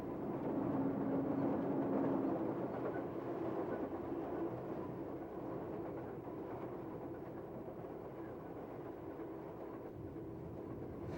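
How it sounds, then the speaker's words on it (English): A GG1 electric locomotive hauls a northbound 13-car Florida passenger train of Seaboard Coast Line cars, giving a steady, fairly faint rolling rumble with light wheel clatter that holds evenly throughout, no voices. "A GG1 pulls a northbound 13-car Florida train with Seaboard Coastline equipment."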